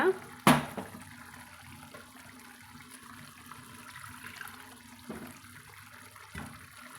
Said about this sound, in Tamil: இப்போது தேவையான அளவு தண்ணி சேர்த்து